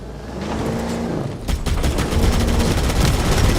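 Gunfire in the Halo: Campaign Evolved game on the Silent Cartographer level: dense rapid bursts of automatic weapon shots, loud and continuous, with a brief pause before a heavier volley resumes.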